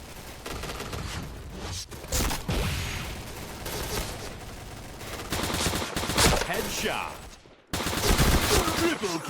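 Rapid bursts of STG44 rifle fire in a shooter video game, loud and dense, with repeated volleys across the span, a brief cut near the end, then more firing.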